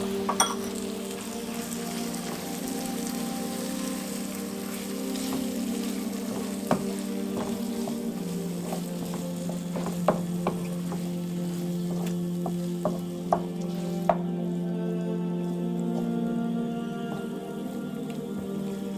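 Butter chicken sauce thickened with a cup of tomato paste bubbles and sizzles steadily in a pan, with occasional sharp clicks and scrapes of stirring, close and continuous with no voices.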